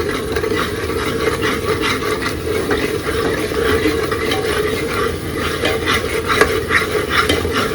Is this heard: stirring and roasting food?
yes